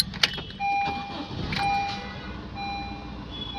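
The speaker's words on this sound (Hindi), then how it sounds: "गाड़ी को स्टार्ट करना है।" Honda City with an i-DTEC diesel engine being started: a brief click and crank followed by a faint idle hum, with electronic chimes beeping at intervals in a quiet car interior.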